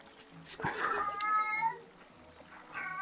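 A cat meows once in a wavering, moderately close cry, with a fainter second meow near the end over a low background hum.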